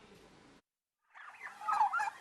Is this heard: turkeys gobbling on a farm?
yes